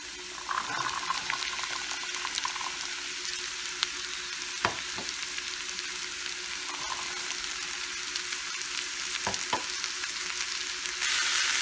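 French beans frying in a pan with ginger-garlic paste give a steady, dense sizzle that runs the whole time, with a few brief knocks from stirring along the way and no talking.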